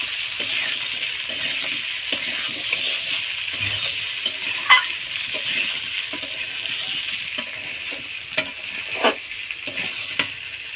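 Chui jhal chillies being stirred into a potato curry in a pan, a steady low sizzle under occasional scrapes and clinks of a metal spoon against the pan.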